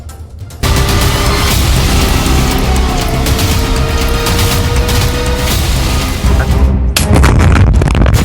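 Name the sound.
explosion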